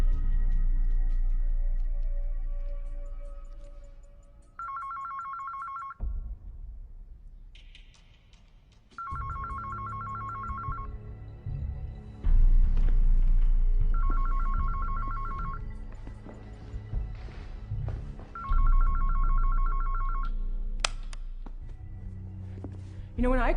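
A telephone rings repeatedly in an action film, loud electronic ring bursts in a regular pattern over tense background score and ambience, with people talking around it.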